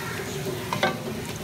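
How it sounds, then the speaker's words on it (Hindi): Potatoes go into a hot pan for aloo ki katli and fry with a steady close sizzle, with a brief stirring clatter partway through. "और अब मैं ये आलू इसमें डाल दूँगी"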